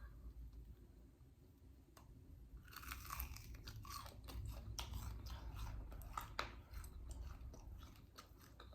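Someone bites into crunchy fried Spam and chews it close to the microphone. Quiet at first, then a run of crisp, repeated crunches continues steadily without talk.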